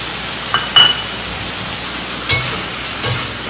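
A spoon stirring fried shrimp into ridge gourd curry in a pan, a few sharp metallic clinks and scrapes spaced over a few seconds against a low hiss, close up, no talking.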